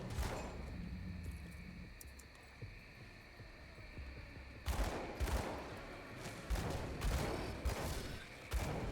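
Dual-wielded pistols fire in the action game Grim Dawn, a series of sharp repeated shot bursts in quick succession over a steady low background hum, beginning after a stretch of quieter ambience.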